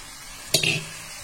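A single short splash and clatter as boiled kidney beans (rajma) are tipped into a pan, brief and close, with quiet room tone on either side.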